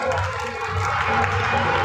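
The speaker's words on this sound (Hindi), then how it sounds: "ताली से स्वागत हो।" Applause welcoming a guest at a school honour ceremony in Maniyar, a dense, steady spatter of clapping from a crowd close by.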